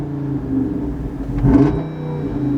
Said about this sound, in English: the best part ever is always starting up the 392. Always got it, the valves are open